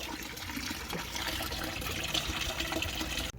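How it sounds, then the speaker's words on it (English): Water steadily drains out of a 135-gallon aquarium tank, a continuous soft rushing trickle with no voices, ending with a brief knock. "I'm draining the water out."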